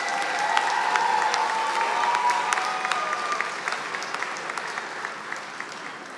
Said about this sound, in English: I would like to congratulate them with a round of applause.